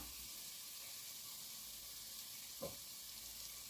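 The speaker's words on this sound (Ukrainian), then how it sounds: "смажу приблизно до 5 хвилин на середньому вогні" Quiet, steady sizzling of spinach frying in a pan over medium heat, with a brief soft clatter partway through.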